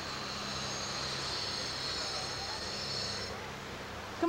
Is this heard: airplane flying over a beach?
yes